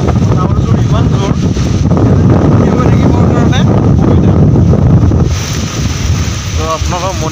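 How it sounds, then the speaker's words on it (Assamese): Strong, constant wind roars across the microphone at the hilltop Parbati temple, loud and unbroken throughout, with a voice speaking faintly beneath the gusts. "আৰু বতাহৰটো ইমান জোৰ"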